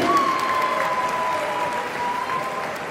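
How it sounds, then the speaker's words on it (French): A church parish audience at a 60th-anniversary celebration applauds a sponsor, producing a steady wash of many hands clapping close and even throughout, with a faint thin tone running under the clapping. "Est-ce que nous pouvons applaudir très fort pour la banque CDC?"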